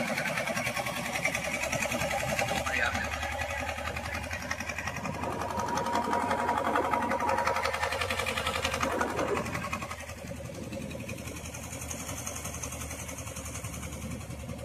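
A small fishing boat's motor chugs steadily with a rapid, rattling rhythm, fairly close on the Kaveri River near Mettur, easing slightly quieter toward the end.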